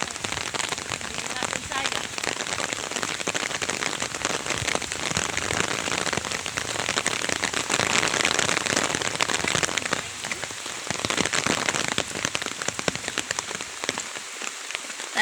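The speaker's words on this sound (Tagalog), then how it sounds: "Nalakas na yung ulan." Heavy rain pours steadily around Tagaytay City, a dense, loud, continuous hiss of drops hitting surfaces that stays constant throughout with slight swells in intensity.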